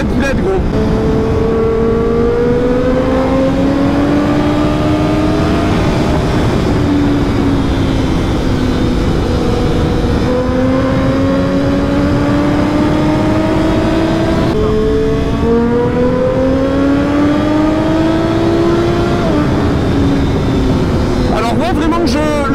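A 2016 Triumph Daytona 675 R sport motorcycle is heard while riding, its engine loud and close throughout, the revs repeatedly climbing and dropping between gear changes over steady wind roar.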